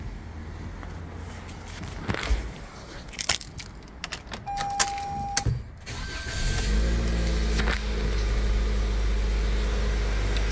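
A 2021 Toyota Corolla Ascent Sport starting up: keys jangle and clunk near the ignition, then the engine catches and settles into a steady low idle that fills the rest of the recording.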